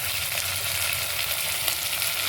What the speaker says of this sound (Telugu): ఇది కూడా బాగా ఫ్రై చేస్తున్నాం.